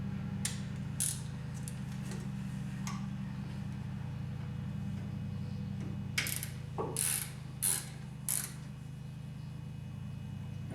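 Ratchet clicking in short bursts while a bolt is tightened on a 6-link suspension during an install, over a steady low mechanical hum, with a few louder clicks near the end.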